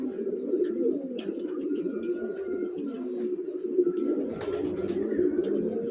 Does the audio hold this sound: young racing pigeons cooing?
yes